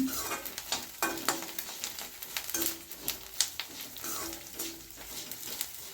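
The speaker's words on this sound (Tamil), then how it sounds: "நல்லா படப்படன்னு செவ்வரிசி நல்லா பொரியுது" Sago pearls frying in hot oil in a pan, crackling and popping in dense irregular bursts over a continuous sizzle, close up with no talk.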